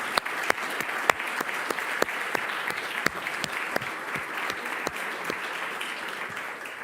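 An audience at a central banking conference forum applauds steadily, a dense, even patter of many hands with sharp individual claps standing out, fairly distant and with no talk over it.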